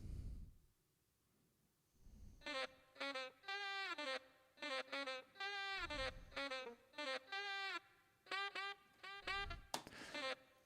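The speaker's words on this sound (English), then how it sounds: "without the effects, it would sound like this on its own" A chopped saxophone sample with no effects, heard as short rhythmic bursts of reedy melodic phrases in an uneven pattern, fairly quiet and alone.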